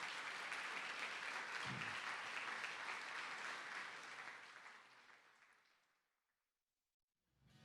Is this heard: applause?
yes